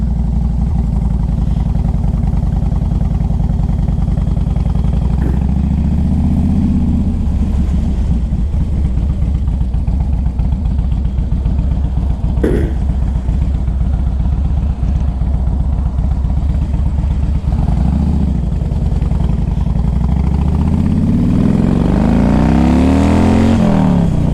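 A 2005 Harley-Davidson Electra Glide Standard's V-twin rumbles steadily while riding, a loud, close, continuous low engine drone with rising revs, wind buffeting and no talk.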